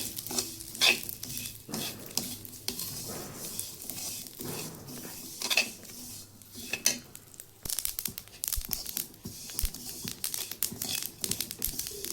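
Masala spices roasting in a pan crackle and sizzle, with close stirring and scraping and scattered sharp pops against a steady hiss.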